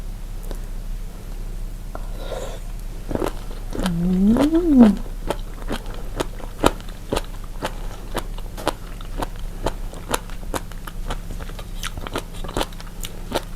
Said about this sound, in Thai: แมงกะพุน ชิ้นใหญ่ ๆ อวบ ๆเลยจ้ะ กรอบๆ